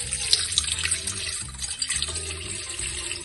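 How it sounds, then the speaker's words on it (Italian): Water poured into the bowl of a stand mixer to start a simple dough for baked calzones, a steady splashing stream running throughout at moderate loudness with no voices. "Quindi iniziamo mettendo nel cestello l'acqua,"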